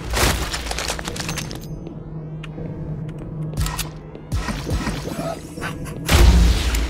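Repeated gunfire from the first-person shooter Project Warlock 2, sharp shots and booming impacts scattered across the stretch over a steady low hum, ending in a louder crashing burst, with no talk.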